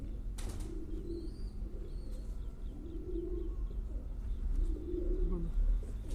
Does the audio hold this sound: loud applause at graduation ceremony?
no